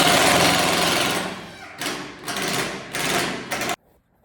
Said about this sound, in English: Got my 1/2 inch impact I'm running these screws down in with